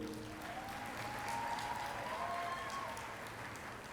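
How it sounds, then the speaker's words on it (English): Quiet, distant applause from a large audience at a commencement ceremony rolls on steadily as a broad, even patter of many hands, with a faint voice briefly audible over it. "now is your time to show love to all the folks who came here for you today with a round of applause"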